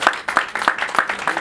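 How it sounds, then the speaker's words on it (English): An audience at a leadership event applauds, with steady claps of moderate loudness repeating in a quick rhythm. "A round of applause, please."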